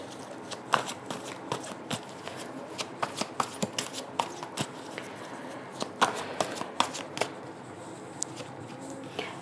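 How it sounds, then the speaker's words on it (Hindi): Tarot cards shuffled and drawn from a second deck, a close run of crisp riffling slaps and flicks in irregular bursts, with no talk heard. "थोड़े से और कार्ड मैं दूसरे डेक से निकालना चाहती हूँ।"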